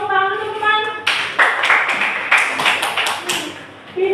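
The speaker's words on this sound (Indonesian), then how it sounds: "Tepuk tangan teman-teman." Classmates in a high school classroom give a short burst of clapping right after a teacher's voice, scattered sharp claps, fairly close, with speech-like tones before and after.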